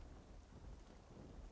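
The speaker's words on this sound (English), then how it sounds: "So it's raining out here right now." Steady outdoor rain hisses as a dense, even wash of drops falling on surfaces, with a low rumbling undertone throughout and no voices.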